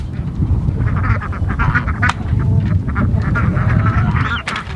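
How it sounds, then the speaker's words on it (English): Several ducks quack continuously nearby in a noisy jumble, overlapping calls with outdoor rumble and handling noise beneath. "Okay, so we always let these ducks get in here and eat."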